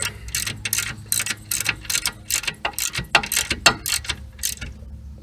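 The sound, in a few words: ratchet tightening Cadillac rear caliper bracket bolts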